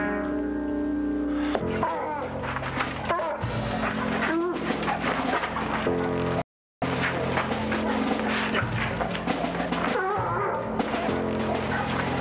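Dogs bark and whimper in a loud, busy scene, with yips and thumps mixed in and a brief drop to silence midway.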